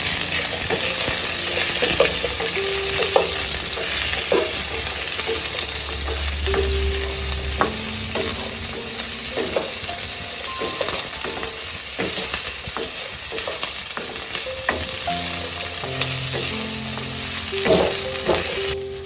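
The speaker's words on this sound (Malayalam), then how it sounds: "ഇതിൻ്റെ കൂടെ നമ്മൾ സവാളയും ചെറിയ ഉള്ളിയും ഇടുക. ഇത് നല്ലപോലെ വഴറ്റിയെടുക്കാം." Onions and shallots sauté in a pan for a homestyle Kerala beef curry with breadfruit, a steady loud sizzle over nearly twenty seconds, broken by scraping stirs and occasional clinks of a utensil against the pan, with no voices.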